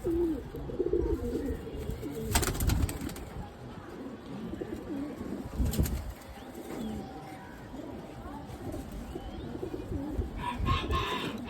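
Pigeons cooing in a loft, low murmuring coos layered over one another with rustling and a few sharp knocks, close and continuous, joined by other bird calls and a faint voice.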